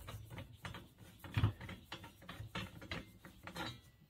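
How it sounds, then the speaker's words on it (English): Nut being undone on an Erbauer EPM 1600 plaster whisk paddle mixer, a run of quiet close metallic clicks and ratcheting turns in an irregular rhythm, with no voices. "It's simply a case of undoing our nut"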